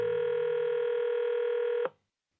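A telephone line signal plays a steady single tone for nearly two seconds and then cuts off abruptly, leaving silence.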